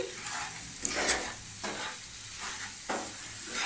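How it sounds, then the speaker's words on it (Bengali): A semolina (suji) and milk powder mixture is stirred in a pan, giving repeated scraping strokes with a faint sizzle, close and fairly quiet, alone without talk. "আবারও একটু ভালো করে সবটা মিক্স করে নিচ্ছি।"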